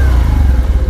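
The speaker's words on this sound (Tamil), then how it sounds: "பார்த்தீங்களா சைலன்சர் சவுண்ட் பார்த்தீங்களா?" Idling Bajaj Platina H Gear 110 motorcycle, its exhaust giving a steady low, close-up thrum with slight clattery pulsing, loud and with no voices over it.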